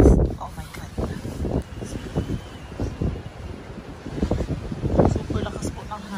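Strong early-morning wind in the Netherlands roars against the microphone in heavy, uneven gusts, loud and close throughout, with a person talking through it.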